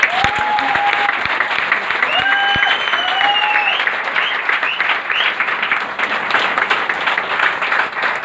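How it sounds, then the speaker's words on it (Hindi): A large audience gives loud, sustained applause, dense clapping that holds steady while whistles and cheers ring out over it in the first few seconds. "एक बार शानदार तालियां चाहूंगा"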